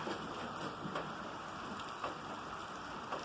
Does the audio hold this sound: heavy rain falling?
yes